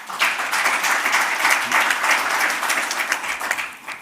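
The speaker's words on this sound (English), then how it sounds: "Maybe we can give them a clap." Conference attendees at the ICERA2025 opening ceremony clap for the organizing committee, a short, even burst of applause filling the room from start to finish.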